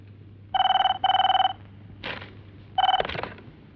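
Telephone bell rings in short electronic bursts, two quick rings, a pause with a clatter, then another ring cut off as the receiver is picked up, close and fairly loud.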